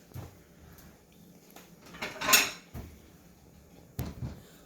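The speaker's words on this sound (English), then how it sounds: "Now while we wait, we need to get a plate." Kitchen plate taken from a cupboard while a toaster waffle cooks: a few soft knocks and one sharper clatter of crockery, quiet and close.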